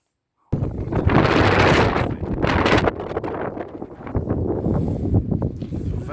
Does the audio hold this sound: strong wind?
yes